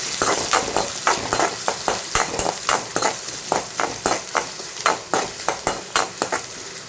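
Chopped onions sauté in a pan, a loud close sizzle broken by regular rhythmic scraping strokes of a spatula stirring them around, repeating about twice a second.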